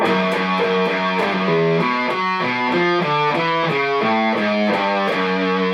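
A riff plays on a heavily distorted electric guitar, with fast, even alternate-picked notes shifting steadily in pitch, loud and continuous with no talking.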